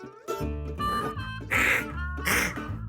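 A person imitates a goose honk with several loud, nasal, honking calls in quick succession, close and strong.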